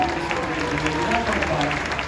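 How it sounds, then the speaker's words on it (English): An audience at a live special effects show at Universal Studios Hollywood claps steadily, a dense, moderately loud patter of many hands lasting a couple of seconds with crowd noise and voices mixed in. "Give her a round of applause."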